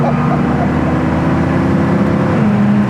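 A 1970 Corvette Stingray with a 454 LS5 engine runs with a loud, steady drone as it pulls through the gears, and the pitch shifts near the end. The air conditioning is on.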